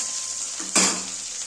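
Fish frying in hot oil in a pan, a steady bright sizzle that flares up sharply midway, as if something is stirred or moved, then settles back to a constant crackle.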